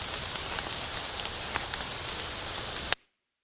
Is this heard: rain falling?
yes